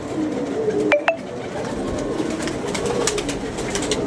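A pigeon perched outside coos softly amid low background noise, with a couple of sharp clinks early on and faint ambient rustle.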